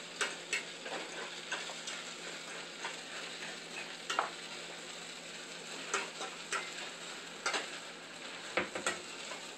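Bratwurst and angel hair pasta being stirred in a hot pan, a steady close sizzle of frying with repeated scraping, clicking strokes of the utensil through the whole stretch.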